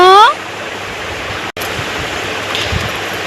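Water pours steadily while a child is bathed, a continuous rushing splash heard close after a brief voice at the start.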